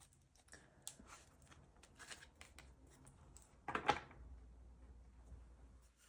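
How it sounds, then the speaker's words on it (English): Tarot cards being shuffled by hand, quiet close-up riffling and tapping in short irregular bursts with a sharper flurry midway, otherwise soft and near silent. "I'm just going to shuffle it one more time."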